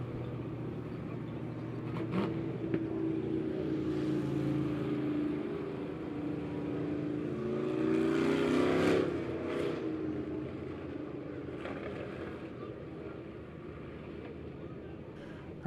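Engines of POWRi Pure Stock race cars rumble around a dirt track during a heat race, a steady broad roar that swells and passes mid-way before settling back to a continuous distant drone.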